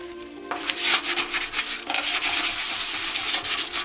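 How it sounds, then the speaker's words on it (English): Sandpaper rubbing Bondo filler off a metal FZR motorcycle fuel tank, a close, loud run of rhythmic back-and-forth scraping strokes with no voices. "I'm gonna try to sand away enough of the Bondo that anything that shows is going to be new Bondo."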